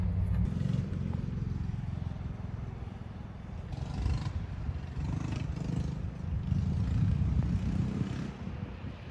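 A go-kart drives around a school grounds, its small engine a steady low drone that swells and fades as it circles, with occasional clatter, heard from a moderate distance.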